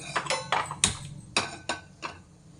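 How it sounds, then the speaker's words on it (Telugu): A metal kadai is set down on a stove before frying fish, making a run of sharp clanks and knocks, about six separate hits close by, with no talking. "కడాయి పెడుతున్నాను స్టవ్ ఆన్ చేస్తున్నాను"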